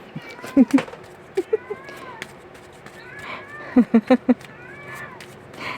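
A cat meows several times in short, close bursts, with a cluster of quick meows near the end; faint voices and household noise sit underneath.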